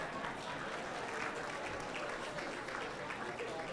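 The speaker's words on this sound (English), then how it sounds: "give ourselves a round of applause" A large audience claps at an awards gala, a dense, steady patter of many hands throughout with no clear start or end, and some voices blending into the crowd noise.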